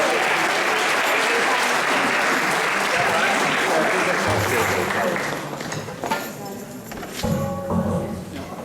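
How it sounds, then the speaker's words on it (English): Audience applause for a samba band leaving the stage, a loud sustained roar of clapping that thins out partway through, leaving scattered claps, a few thumps and a voice. "Another round of applause for our Samba band as they go off and put their drums away"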